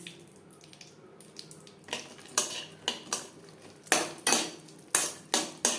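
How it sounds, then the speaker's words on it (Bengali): Cashews and raisins fry over a low flame in a pan of mixed oil, with clattering stirring strikes against the pan that come in a quick uneven series over a soft background. "লো ফ্লেমে রেখে কাজু কিশমিশ হালকা করে ভেজে নেব"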